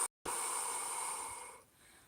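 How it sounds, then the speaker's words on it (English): A person releases a held breath in one steady, close, airy exhale that lasts nearly two seconds and tapers off softly at the end, with no talking. "And when you need to, you're going to exhale."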